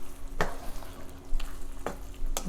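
Paneer chilli simmers in a pan with a low, continuous bubbling hum, broken by a few sharp, separate clinks of a utensil stirring against the pan.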